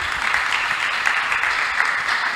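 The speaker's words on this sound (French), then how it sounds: "Est-ce qu'on peut acclamer le Seigneur?" Church congregation applauding to acclaim the Lord at a women's evangelism gathering, a steady, dense wash of many hands clapping continuously, fairly loud and close, with no voices breaking through.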